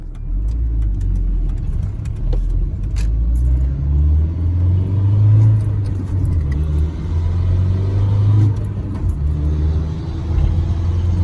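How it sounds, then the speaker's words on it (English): Steady road traffic rumbles past continuously, low and fairly loud, with engine drone rising and falling as vehicles go by and no voices. "there's a lot of traffic."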